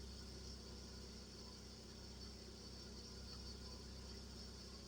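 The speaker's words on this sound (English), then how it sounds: "The engine sounds good enough." A car engine idles steadily at a low, even rumble, quiet and constant throughout with no other sounds.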